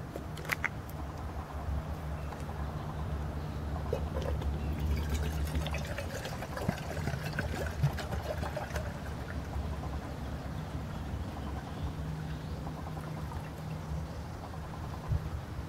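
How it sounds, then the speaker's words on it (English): Water poured from a bottle into a cook pot outdoors, a soft steady splashing and trickling that runs for several seconds, then fades into quieter drips and ambient sound. "So we poured about 32 ounces of water into this pot."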